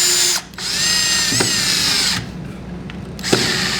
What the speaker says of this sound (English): And drill that in.